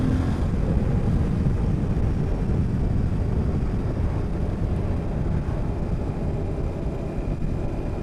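Aprilia Tuareg 660 mid-size trail motorcycle being ridden, a steady engine drone mixed with heavy rushing wind noise, continuous and fairly loud with no speech.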